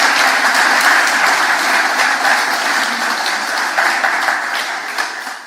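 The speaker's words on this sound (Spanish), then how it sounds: "mandemos un aplauso a nuestra gente en América Latina" Dense, steady applause from a church congregation fills the space, a loud continuous wash of many hands clapping that carries on throughout without letup.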